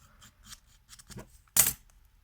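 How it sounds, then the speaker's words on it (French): Scissors scraping and snipping along paper edges to age them for a crafting embellishment, soft small rubbing cuts followed by one sharper, louder snip near the end, close up with no talking. "vieillir mes bords, enfin mes bords, mes contours. Voilà, avec un ciseau."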